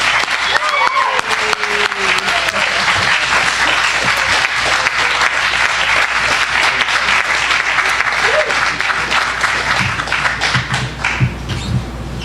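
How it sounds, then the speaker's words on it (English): Sustained applause from a convention audience honoring Corinne, dense clapping filling the room steadily for the full stretch, with scattered voices and a few louder taps near the end. "Let's give her a round of applause."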